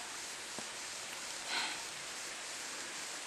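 Rain falls on a rocky mountain trail as a steady, soft hiss of broadband noise, with a brief louder patter swelling midway and a faint knock early on.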